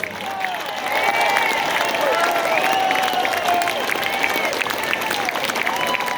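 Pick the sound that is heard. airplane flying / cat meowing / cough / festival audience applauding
festival audience applauding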